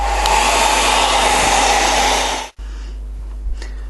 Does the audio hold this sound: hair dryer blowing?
yes